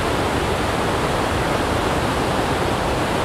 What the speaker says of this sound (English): the river is going so unbelievably fast. Like, just look at that current.